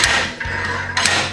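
A hammer pounds on a damaged car part, a few sharp, loud metallic blows over a second of clanging workshop noise.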